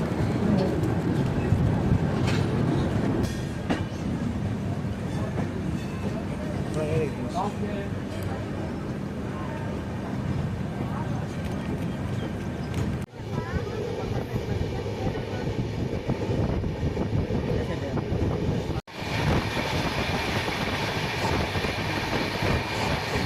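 A non-AC double-decker express train between Chennai and Bangalore runs steadily with a continuous loud rumble and rhythmic wheel clatter, heard from inside the coach while a person talks throughout.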